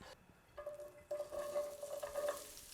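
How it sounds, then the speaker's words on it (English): Asparagus sautéing in olive oil in an already hot skillet: a faint, soft sizzle that steps up after a second into a steady hiss with light stirring scrapes, heard alone without talk. "This is just a quick saute for the asparagus and the pan's already hot."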